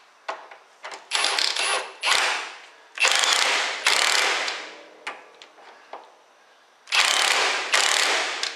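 Ratchet wrench unbolting a part on a 1964 Ford Thunderbird convertible, sounding in several bursts of rapid clicking with short pauses between, close and fairly loud, with no voices.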